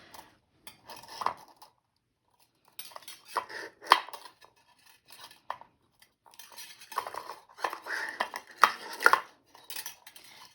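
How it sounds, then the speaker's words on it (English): Long metal wires clink and rattle while being wrapped into a wire rose, in scattered bursts of light, close metallic tapping with quiet gaps and no talking. "It's a noisy one, this, because the long wires keep getting in the way."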